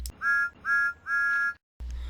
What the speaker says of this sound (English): He whistled impatiently.